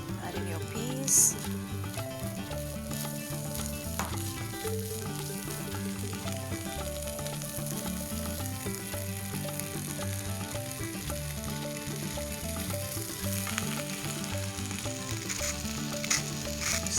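Peas sizzle in a pan for a vegetable au gratin, a steady, close frying hiss with scraping stir sounds recurring underneath.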